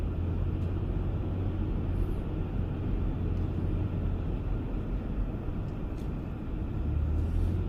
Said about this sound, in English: we're now actually driving behind our home